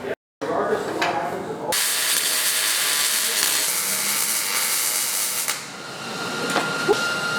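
A seam being welded on a damaged Jeep frame, a loud continuous crackling hiss that runs close and steady for several seconds after a short clunk and pause.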